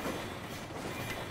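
A moving train in the video game Lost Planet 2, a faint continuous rolling rumble with light rhythmic clatter and no talk.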